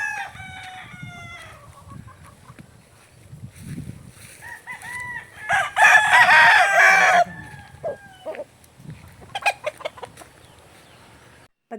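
Young roosters (stags) crowing and clucking, several loud close crows rising over softer clucks and scattered bird calls in a farmyard.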